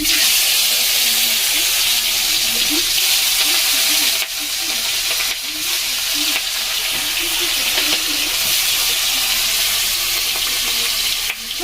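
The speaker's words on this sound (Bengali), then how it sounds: "বড় কড়াইতে মাছ ভাজবো আর এই কড়াইতেও ভাজবো" Fish pieces frying in hot mustard oil in a large wok, a steady loud sizzle running throughout with bursts of spitting and crackle, close and continuous with no talk.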